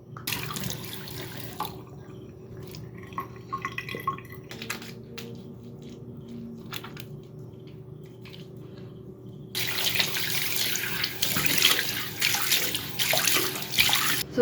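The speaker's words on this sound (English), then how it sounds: "I'm done with my at-home makeshift photo shoot, and I'm gonna be washing my face." Tap water running into a sink during face washing, a steady broadband rush that swells louder in the last few seconds after quieter splashing and dripping, with no talking.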